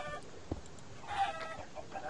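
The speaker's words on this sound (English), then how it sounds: "Wait a second, is that another chicken? I just see a chicken!" A video game chicken clucks softly in a short burst against quiet background noise.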